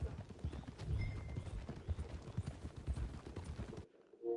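Horse hooves thud in a quick, even gallop rhythm in Red Dead Redemption 2, fairly close and clear, then cut off abruptly near the end.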